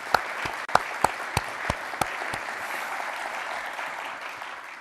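Audience applause at a Department of Defense acquisition hall of fame ceremony, a steady wash of many hands clapping with a few sharper nearby claps standing out.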